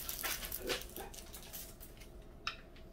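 A female dog whimpers and yips in short high whines at home, several soft bursts close by with a faint background hiss and no talking.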